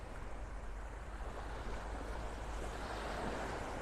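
Ocean waves and surf washing in at high tide on Vanderbilt Beach in North Naples, Florida, a steady broadband wash with low wind rumble, continuous and fairly loud with no voices.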